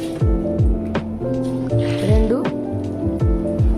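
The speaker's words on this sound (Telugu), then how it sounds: "ఇప్పుడు మురుమురాలలో మనం 3 కప్పుల వాటర్ వేయబోతున్నాం" Cups of water are poured onto puffed rice (murmuralu) in a bowl while making vada, a steady close splashing and gurgling with a voice speaking over it.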